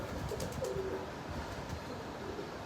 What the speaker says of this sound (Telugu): పావురాలు ఆడుకుంటుంటాయి.